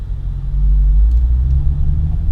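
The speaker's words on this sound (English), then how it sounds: "Slowly start letting the clutch out towards the grab point, add some gas." A manual car's engine hums low and steady and rises slightly in rumble as the clutch is eased out toward the grab point with a little gas, heard from inside the cabin.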